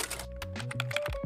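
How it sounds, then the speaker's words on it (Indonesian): Fingers type a script on a computer keyboard with quick, close, uneven clicks and taps, alone against a faint steady tone. "Sekarang aku lagi ngetik dulu skripnya sebelum take."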